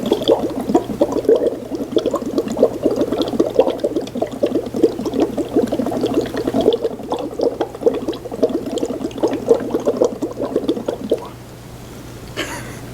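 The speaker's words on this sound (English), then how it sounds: "I'm going to use the straw to blow bubbles into this mixture" Breath forced through a straw into a red cabbage indicator mixture makes steady bubbling and gurgling for about eleven seconds before it stops, close and moderately loud.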